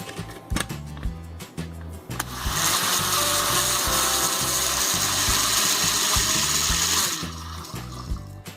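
A mixer grinder blends chopped mango and mustard for Kerala-style pachadi, beginning with a few short pulses and then a steady, loud whirring grind for several seconds before cutting off.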